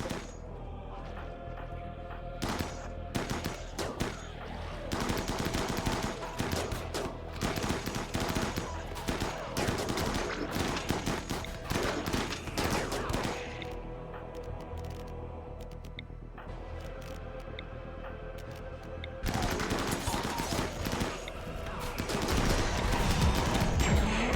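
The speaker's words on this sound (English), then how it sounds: "Shooters, start shooting." Sustained rapid gunfire from shooters in a video game, dense bursts of cracking shots rattling almost continuously, with one brief lull before the firing picks up loudly again.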